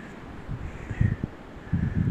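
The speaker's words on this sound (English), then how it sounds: "Well, the wind is blowing." Gusty outdoor wind buffeting the microphone in cold, rainy weather at a sandblasting site, low rumbling bursts rising and falling with no talk.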